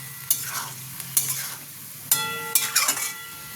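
Chicken keema fries in a pan under a steady sizzle, with a spoon scraping and clinking against the metal in several sharp strokes.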